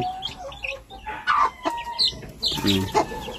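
Mother hen clucking among her chicks, with soft repeated clucks, a louder burst of calls in the middle and high chick peeps scattered throughout, nearby and without talk.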